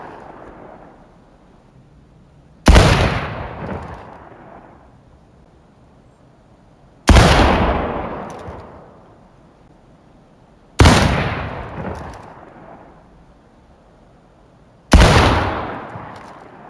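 Pattern Enfield 1853 rifle fired at range targets in War of Rights: four loud, sharp single shots spaced about four seconds apart, each cracking hard and then trailing off in a long echoing decay.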